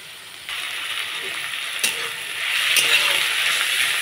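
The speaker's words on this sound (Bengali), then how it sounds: "টমেটো, কাঁচা লঙ্কা, আদা, পেঁয়াজ রসুন খুব ভালো করে একটু ভেজে নেব" Ginger, chopped tomato and slit green chillies fry with onion and garlic in a pan for a fish curry, a steady close sizzle that swells louder partway through, with a couple of brief clinks.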